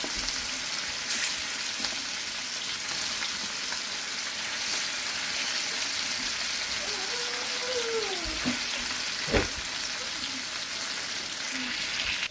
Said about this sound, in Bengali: এখন মাছগুলো বাজবো